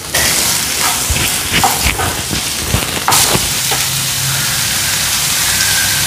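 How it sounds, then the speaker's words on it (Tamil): Onions sauté in hot oil with salt, giving a steady close sizzle and hiss broken by a few scrapes and stirs from a spoon, with no talking. "முதல்ல வந்து வெங்காயத்தை போட்டு கொஞ்சம் மதக்கிக்கலாம்"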